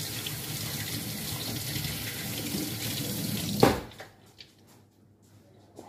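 Cold water runs steadily from a tap over a lamb's milk bottle to cool it, a close, continuous splashing rush that cuts off abruptly near the end, leaving a few faint drips and clinks.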